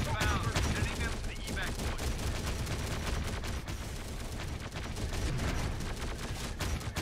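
Sustained gunfire rattles through a firefight in Terminator: Dark Fate Defiance, with rapid repeated shots and bursts layered over a rumbling battle din for around seven seconds.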